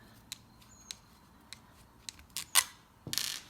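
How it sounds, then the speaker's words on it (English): Pull starter being removed from a nitro engine: sparse small metallic ticks and clicks, then a sharper clack and a brief rattling scrape near the end, close and quiet otherwise. "Start by taking the pull starter off."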